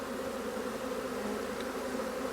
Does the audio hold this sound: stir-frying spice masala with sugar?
no